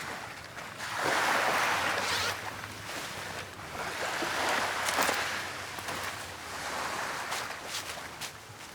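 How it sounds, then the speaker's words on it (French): Ocean waves swell and recede in slow, broad surges, a continuous wash of surf with gentle rises and falls and no voices. "Laisse-toi bercer par le chant des vagues"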